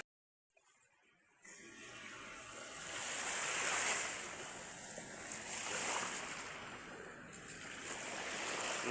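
Ocean waves wash steadily onto a sandy beach, a continuous soft surf roar with gentle swells and light wind noise, with no talk.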